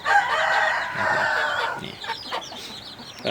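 A sick chicken suffering from indigestion, recovering after treatment, clucks and calls loudly and close by in a drawn-out, rising and falling cry followed by shorter clucks, with no speech.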